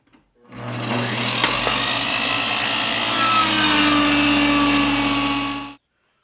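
A saw cuts a dado test groove into plywood for a box top, giving a loud, steady whirring, rasping drone that starts abruptly, holds for about five seconds and stops sharply.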